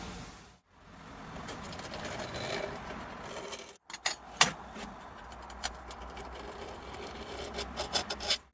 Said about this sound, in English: So now I'm going to scribe what will be the blade edge using a 4mm drill bit